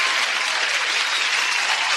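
Dense, steady applause from a crowd at a big tenth-anniversary live stream event, loud and continuous throughout with no pauses.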